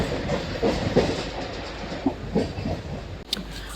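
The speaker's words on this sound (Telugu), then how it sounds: "మన ట్రైన్ వచ్చేసండి" The Narasapur–Machilipatnam MEMU train runs on the rails with a rumbling, rhythmic clickety-clack of wheels over joints, heard from on board with a sharp clank near the end.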